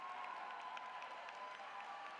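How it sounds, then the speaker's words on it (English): Steady, dense applause from a large audience honoring the master's and doctoral graduating class at San Jose State University's Black Commencement Celebration, filling the whole stretch evenly at moderate distance without a pause. "Let's give our graduating class of graduates one more huge round of applause."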